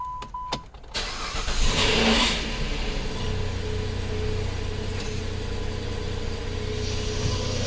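A 2010 Sebring convertible with a 2.7L engine being cranked after a crank-no-start fault, a few clicks before it catches, revs up briefly and settles into a steady idle close by.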